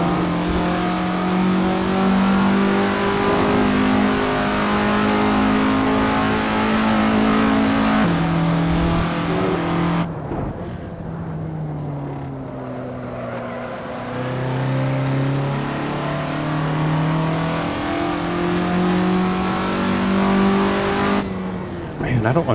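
Classic Formula Ford race car in Assetto Corsa at Donington revs hard through the gears, the engine note climbing and dropping across repeated shifts, loud and continuous with someone talking over it.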